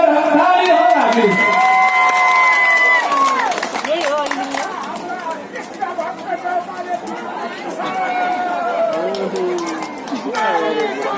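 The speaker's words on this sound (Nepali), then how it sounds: "एकचोटि इन्जिनियरिङ टिम अनि कृष्णको लागि जोरदार ताली हो हामीले" A crowd cheers, shouts and claps for an engineering team at a lively public event in Nepal. The noise is loud and continuous, with raised voices and whoops rising and falling over the mass of chatter.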